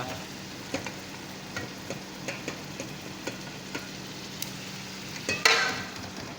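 Chicken pieces sizzle and fry in a pan for an okra chicken curry, a soft steady crackle with light stirring taps and one louder scrape near the end, no voices.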